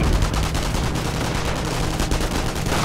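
Dense, continuous gunfire from the WWII strategy game Company of Heroes, overlapping rifle and machine-gun shots crackling steadily at moderate loudness with a low rumble beneath, no talking.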